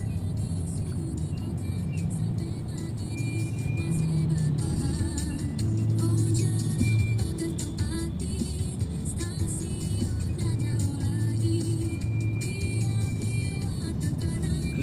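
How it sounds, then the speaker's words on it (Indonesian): Morning traffic jam of cars in Palembang: a steady low engine rumble with idling and creeping vehicles, faint horn-like tones now and then, continuous and moderately close. "Macet ya, macet lah, orang mau pergi ngantor."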